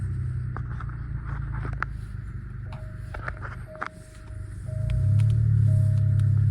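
An Alfa Romeo Giulia is switched off and started again: faint clicks and mechanical noises over a steady low hum, then the engine rumble swells louder and holds for the last second and a half.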